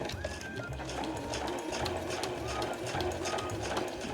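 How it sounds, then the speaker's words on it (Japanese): A sewing machine stitches along the edge of a handmade phone pochette, its fast needle chatter running in short repeated bursts close by, with a voice talking quietly over it. "際を縫いましょう。"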